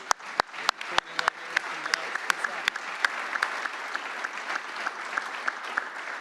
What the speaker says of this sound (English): Stand up and let us give you a round of applause here.